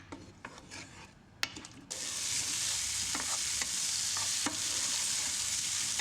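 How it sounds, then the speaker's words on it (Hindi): Potatoes frying in hot oil in a pan, aimed at golden browning for a dhaba-style aloo sabzi: a few scraping stirs, then a loud, steady broadband sizzle takes over and continues throughout with occasional utensil scrapes, no voices. "आलू की इतनी भुनाई करेंगे कि ये अच्छा से गोल्डन हो जाएंगे"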